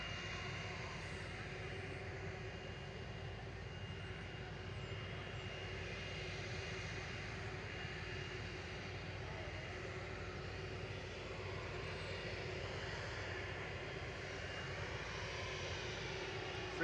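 Heavy jets at Manchester Airport, an A330, A380 and 787 in quick succession, give a continuous distant engine rumble and roar, steady and moderately loud, with no talk.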